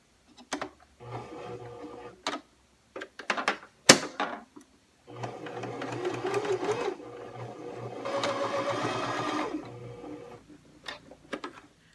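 A sewing machine sews a zigzag stitch on a tote bag in two bursts of close mechanical whirring, separated by clicks and handling noises during the pauses.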